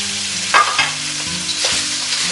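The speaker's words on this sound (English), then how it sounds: "you're going to push the beef into the hot oil" Beef hits hot oil in a wok and sizzles loudly, with a crackling hiss that flares as the meat is pushed and stirred at close range, under a steady low hum.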